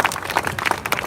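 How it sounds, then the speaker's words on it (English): An audience applauding for Attorney General William Tong at a political gathering, a brief burst of steady, dense clapping from a crowd. "Please join me in a great round of applause for our next Attorney General, William Tong."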